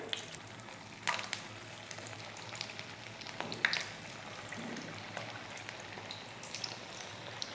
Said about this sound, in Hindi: अब हम इसमें एक एक करके कटलेट डालेंगे